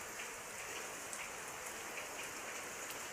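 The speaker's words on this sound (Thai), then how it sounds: "ฝนก็ตกจ้าพี่น้องจ้า" Steady rain falls through an early-morning rainy-season scene, a soft continuous hiss with faint scattered drops, quiet and even throughout with no voices.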